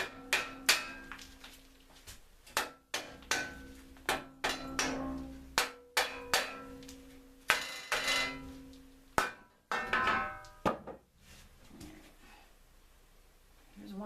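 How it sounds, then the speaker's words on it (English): A hammer strikes the caliper plate of a Dana 44 axle in a workshop, about a dozen to twenty sharp metallic bangs in irregular bursts, close and fairly loud, with short pauses between groups. "by my hammer, I'm going to start banging on this caliper plate"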